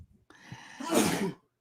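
A single sneeze bursts out after a short inhaled buildup, close and fairly loud, ending abruptly into silence.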